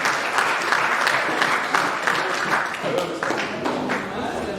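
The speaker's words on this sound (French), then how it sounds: "On peut l'acclamer pour cette présentation." Steady applause from an audience at a formal New Year greetings exchange, dense continuous clapping filling the room at full volume from start to finish.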